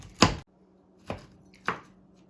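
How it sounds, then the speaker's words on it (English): Three sharp knife chops through pecans in a recessed bowl, the first loudest, spaced irregularly with quiet pauses between, close and isolated. "this does a very good job of chopping the pecans"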